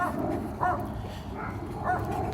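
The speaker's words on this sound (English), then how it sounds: "this area is really heavily patrolled by the guard dogs, as you can tell" Guard dogs patrolling a residential block bark a few times at a distance, faint yips spaced out over a steady background hum of outdoor noise.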